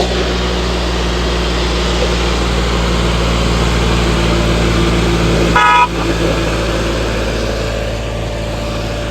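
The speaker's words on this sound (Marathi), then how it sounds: "बघू शकताय ट्रॅक्टर मध्ये तरी 24 टन लोड आहे. तरी इजी चढलेला आहे" A tractor hauling a 24-ton load labors up a hill at night, its engine a steady, loud, low drone throughout, broken by a brief horn-like toot just before the end.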